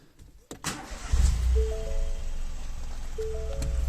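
A 2019 Ford Fiesta Mk8 engine cranks and catches, then settles into a steady close idle after a couple of clicks and a short whirr, with no talk over it.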